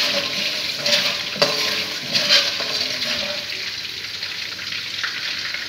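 Ghee and a dried chilli hitting hot oil in a pan, giving a loud, steady crackling sizzle with occasional sharper pops that slowly settles.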